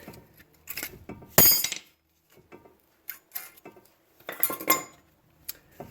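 Metal brake pads and hardware clink as they are pulled from the front caliper of a 2002-2006 Nissan Altima, a few short scattered rattles and taps with quiet gaps between, close by.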